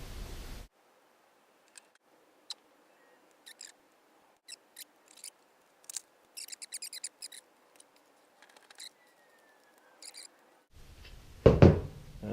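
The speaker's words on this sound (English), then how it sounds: "now we'll put the tape on" Short tearing and crinkling bursts of tape come in scattered snaps during bathroom renovation work, set against near silence, followed by a louder rustle and thump at the end.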